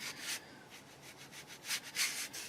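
A brush dry-brushing paint over gloss varnish on a 1/12 scale model, soft rhythmic bristle scrubbing strokes, close and quiet, in short bursts with pauses.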